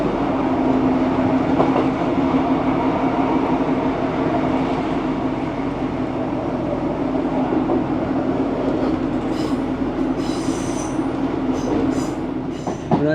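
A train rolls into platform 12 at Leeds station, heard from onboard. Steady rumbling wheel and carriage noise continues throughout. Brief high squeals come near the end as it slows.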